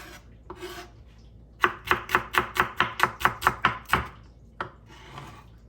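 Knife slicing through ingredients on a chopping board while preparing a Chinese pork stir fry; a quick run of about ten evenly spaced, crisp chops in the middle, with a few isolated cuts before and after.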